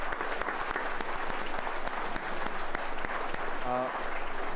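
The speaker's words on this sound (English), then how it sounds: "and a round of applause to our candidates." Audience applause at a 2015 Canadian federal election candidates' debate in Guelph, a dense, steady clapping that carries on for several seconds.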